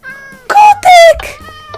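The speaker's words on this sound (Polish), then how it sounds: "No co ty koty spawnujesz?" Cats meowing in the video game Minecraft, two loud close high-pitched mews in quick succession with faint game sounds around them.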